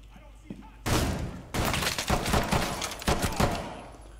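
Heavy shotgun blasts and gunfire in Rainbow Six Siege, starting abruptly after a quiet moment and continuing as a dense, loud string of close shots and impacts.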